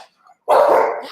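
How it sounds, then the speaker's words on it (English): Levi, a deaf dog, lets out a single loud, close bark after a moment of near silence, the sound ringing on briefly before fading. "This is Levi, our deaf dog."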